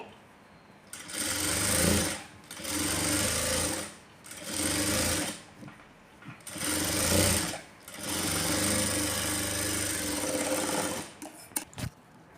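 A sewing machine stitching a frilled blouse, running in several steady bursts of a couple of seconds each with short pauses between, close and loud with a fast mechanical whir.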